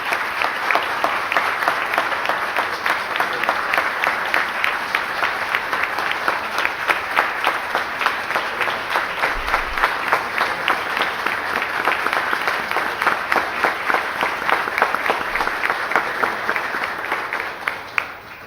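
Sustained applause from an audience at a solemn session of the Recife city council chamber, dense steady clapping throughout with no voices rising above it, fading at the very end.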